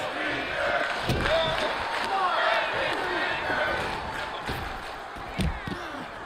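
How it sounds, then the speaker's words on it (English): Arena crowd in the WWE 2K24 wrestling video game chanting in support of a wrestler during a title match, a steady dense roar of many voices with rhythmic surges, thumps and impacts mixed in and commentary over it. "crowd starting to chant, trying to get behind Blaq Hart."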